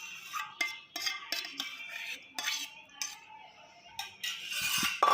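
Metal spoon scraping and clinking against a mixer jar while mango ice cream mixture is scooped into it, a series of sharp irregular taps and scrapes, close and fairly quiet, with no talking.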